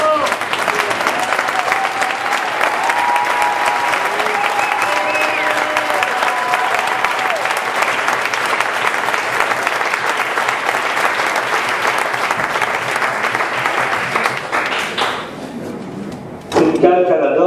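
An audience at a cystic fibrosis fundraising rally applauds. The clapping is loud and continuous, dense and near, holds steady for about fifteen seconds, then thins briefly before a final swell. Faint voices mix into the crowd noise.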